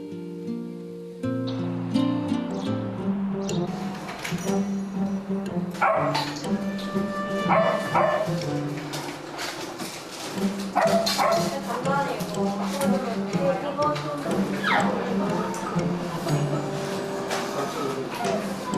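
A dog barks and yips repeatedly, with whimpering, close by at a vet clinic during examinations, mixed with people talking and some background noise.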